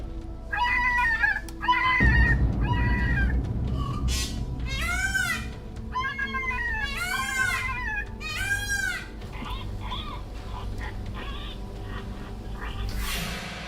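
An electronic predator caller in Florida plays a dying cottontail rabbit distress sound: loud, wavering squeals and cries repeated in quick bursts over a low background rumble.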